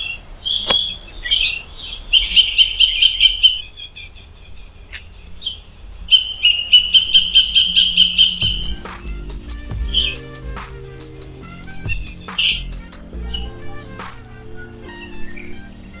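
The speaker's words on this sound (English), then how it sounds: "These huts allow us to sit for hours and hear the melody of birds chirping" Birds chirp and tweet in short bursts over a constant high insect trill in the Middle Andaman islands, with scattered calls echoing from different distances.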